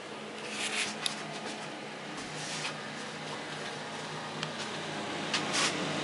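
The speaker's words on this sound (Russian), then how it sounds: "Вот он, вентилятор крутит." A ventilation fan runs steadily in a damp home cellar, giving a constant low whir with faint broadband hiss and a few light clicks, moderately quiet and close.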